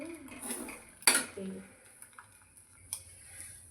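Eggs being scrambled in a pan: a utensil clinks and scrapes against the cookware in a few sharp knocks and lighter taps, close by, with a voice speaking at the start.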